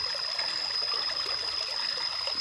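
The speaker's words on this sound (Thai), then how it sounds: "นี่ก็เป็นในส่วนของที่ติดลำธารนะคะ" A stream flowing along farmland near Khao Yai in Prachinburi, Thailand, giving a continuous even trickle and babble at moderate level, with a persistent high-pitched tone underneath and nobody speaking.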